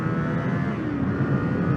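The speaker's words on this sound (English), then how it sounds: "Here we go, a little chance to open it up." A 2024 Kawasaki Eliminator motorcycle accelerates with a steady, loud engine drone and rising pitch, heard from the rider's position with wind noise and no talking.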